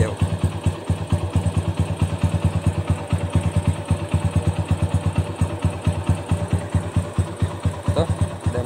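A custom motorcycle engine idling close up, with a steady rapid putter of even pulses that continues throughout, with little else heard.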